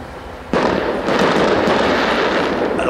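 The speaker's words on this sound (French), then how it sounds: "Alors ça, ce sont des fusées clignotantes, crackling" Crackling strobe firework rockets burst at a public display, starting with a sudden loud crack followed by a dense spray of sharp crackles and pops that continues for a few seconds.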